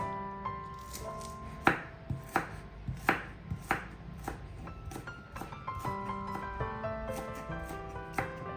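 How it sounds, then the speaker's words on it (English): Knife chopping green onions on a cutting board for a fried rice bowl, a steady series of crisp, close thuds with short pauses, with no talk. "Chop the green onions,"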